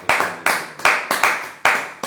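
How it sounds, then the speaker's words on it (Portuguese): Applause during a church service: about six sharp, fairly evenly spaced hand claps, close and loud, with no talking. "Uma salva de palmas"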